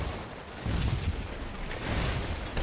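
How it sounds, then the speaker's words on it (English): An ongoing artillery barrage in the Combat Mission Battle for Normandy game, a dense rumble of distant and nearer booms and gunfire overlapping continuously with no talk. "still artillery coming down 9 minutes in. The barrage is ongoing."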